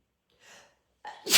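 A single loud, close sneeze from a person crafting an art journal, preceded by a short sharp intake of breath and a brief pause before the burst.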